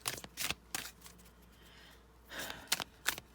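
A deck of tarot cards is shuffled close by in quick riffling bursts, several crisp flurries separated by short pauses.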